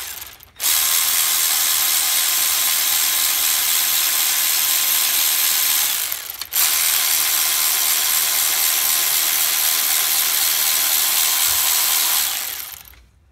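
An air ratchet buzzes loudly and steadily while unbolting the timing chain tensioner on a Ford 5.4L 2-valve Triton engine, two long continuous runs separated by a brief pause.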